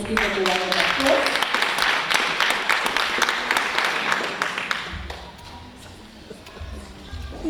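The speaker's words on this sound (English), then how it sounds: "Let's give them a round of applause." Audience at a national teaching awards ceremony in Johannesburg applauding award-winning teachers, a dense, loud burst of clapping with a few cheers that tapers off after about five seconds into quieter room noise.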